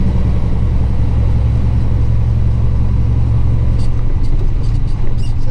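A semi truck hauling a shipping container cruises along Nimitz Highway beside a harbor in busy traffic, with a steady, close engine rumble and constant road noise that never lets up.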